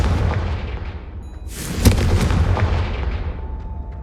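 A Confringo fire spell from the video game Hogwarts Legacy bursts as one loud, sharp blast that rolls out into a long, fading roar over steady background ambience, with no one talking.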